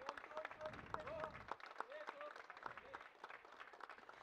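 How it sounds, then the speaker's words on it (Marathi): Scattered applause rises from a crowd at a cricket league prize distribution, faint and distant beneath an announcer speaking over a loudspeaker. "जोरदार टाळ्या."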